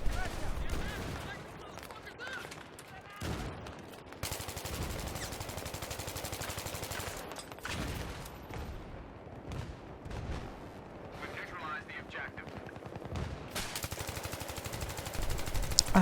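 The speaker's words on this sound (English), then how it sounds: "Pre-firing again. Doing it with support guns, big clips, you can just keep going." A support machine gun in Battlefield 3 pre-fires in long, sustained automatic bursts, a steady chattering stream broken by a few short pauses, fairly quiet in the mix with some talk over it.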